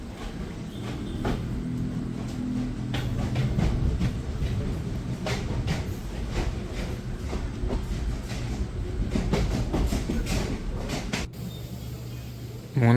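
The Shoranur–Kannur express running on the tracks, heard from inside a coach as a continuous rolling rumble with rhythmic clickety-clack wheel beats, moderately loud, with a sharp knock near the end.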